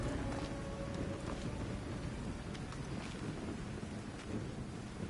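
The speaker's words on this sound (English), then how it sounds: "A storm is coming." An approaching storm in the video game Assassin's Creed Odyssey: a steady roar of rain and wind with low, rumbling thunder throughout, dense and continuous, with no talk.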